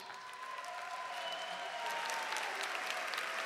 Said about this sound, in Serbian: Jedan aplauz za mlade talente.